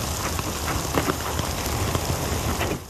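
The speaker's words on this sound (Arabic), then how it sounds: "هطلت اليوم على أغلب مناطق الدولة أمطار غزيرة نتيجة تأثر الدولة بمنخفض جوي، كما شهد عدد من المناطق سقوط حبات من البرد" Heavy rain with hail pouring down in the eastern highlands of the UAE, a dense steady hiss of drops pattering on surfaces, loud and continuous with scattered sharper impacts throughout.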